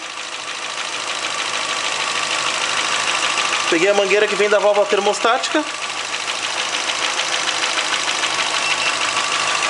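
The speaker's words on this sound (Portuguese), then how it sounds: "No momento, o motor tá ligado, né?" The 1.0 8-valve engine of a 2006 Renault Clio idles steadily throughout, a constant mechanical hum with someone talking over it briefly in the middle.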